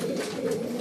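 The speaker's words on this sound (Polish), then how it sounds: "Jest to gołąb, który jest bardziej sprinterski niż na takie dzisiaj ciepłe pogody jak dzisiaj." A tired racing pigeon coos softly in a low, continuous murmur on arrival at its loft on a warm day.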